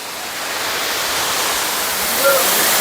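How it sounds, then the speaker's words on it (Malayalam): Water falling steadily at Thusharagiri waterfall, a broad constant rush that stays even and moderately loud throughout, with no voices over it. "അപ്പോൾ അതാണ് ഇവിടുത്തെ ഒരു വെള്ളച്ചാട്ടത്തിൻ്റെ ചെറിയൊരു വ്യൂ"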